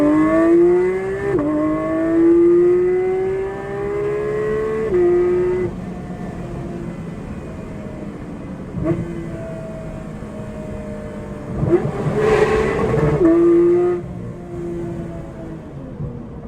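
A Porsche 992 GT3 with a Dundon exhaust and PDK gearbox revs hard and close, its engine pitch sweeping up and down in several rising pulls with brief dips between them.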